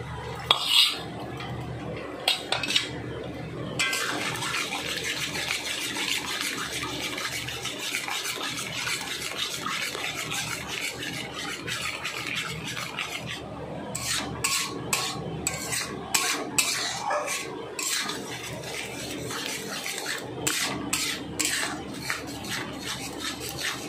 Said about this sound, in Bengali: ওই কড়াতেই কিন্তু আমি ফেটিয়ে রাখা ডিমটা ভেজে নিচ্ছি।